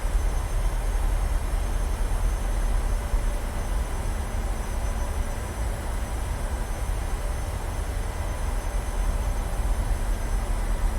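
Engines of a PMDG Boeing 737 in Microsoft Flight Simulator 2020 drone as power is added for taxi at Las Vegas, a steady, dense roar holding even throughout without talk.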